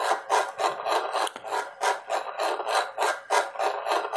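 Spinning top whirring on a surface during a physics lecture on angular momentum, a continuous scratchy rasp with rapid pulsing rhythm, close and fairly loud, with no voice.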